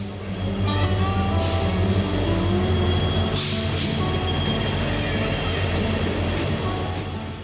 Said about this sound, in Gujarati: દોસ્તો આ તમે જોઈ રહ્યા છો રેલવે સ્ટેશન વાપીનું